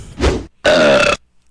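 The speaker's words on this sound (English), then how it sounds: "Do you know whose burp that was?" A loud, drawn-out human burp with a short grunt-like lead-in, two bursts close to the mic, alone with no talk.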